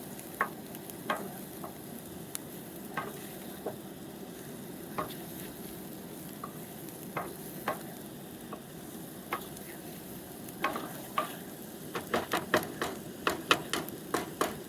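Garlic sizzles steadily in a hot pan for a simple tomato and basil pasta sauce, with sharp utensil clicks and scrapes from stirring that grow busier toward the end. No one speaks.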